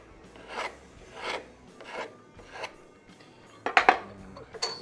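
A scraper drawn repeatedly along a wooden instrument neck, giving a series of rasping strokes roughly every second, close up, followed by a few sharper scraping and tapping sounds at the end.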